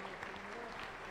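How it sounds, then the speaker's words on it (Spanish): A Pentecostal church congregation applauding, a dense, steady burst of clapping heard briefly, with voices mixed in. "aplauso para el Señor Jesús."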